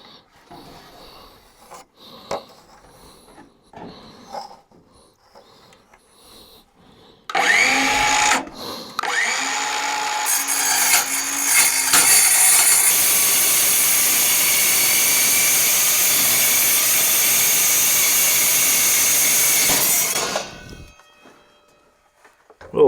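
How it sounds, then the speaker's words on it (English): Cordless reciprocating saw cuts through sheet metal for a steel rack cover, a loud harsh grinding rasp that runs steadily for about twelve seconds after a few quiet handling clicks, then stops abruptly. "Getting out the cordless reciprocator, and hopefully I don't cut through anything major over there"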